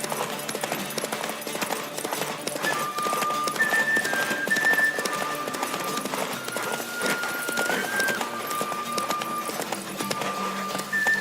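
Horse galloping in The Witcher 3 video game, a fast, steady clip-clop of hooves at close range, kept up throughout with game music tones and ambience in the background.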